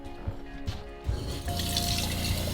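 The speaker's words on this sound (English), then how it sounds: "We have running water." A faucet in a homemade off-grid van kitchen starts running, first a few soft drips and taps, then a steady stream of water pouring into a cup.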